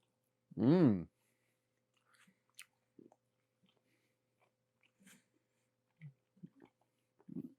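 Someone chews thin, dehydrated habanero beef jerky after a short voiced hum, producing sparse, faint, crisp clicks and small crunches scattered irregularly through otherwise quiet, close-up mouth sounds.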